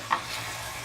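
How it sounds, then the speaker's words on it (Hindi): Minced meat keema frying with masala in a pan, a short burst of close sizzling with a quick stir and a light scrape at the start. "इसलिए जो है मसाले के साथ मैं इसको अच्छी तरीके से भून लेती हूँ।"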